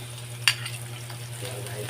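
Onion frying with ginger and garlic for green mango in coconut milk, a soft constant sizzle under a low hum with one sharp utensil tap early on, nearby and fairly quiet.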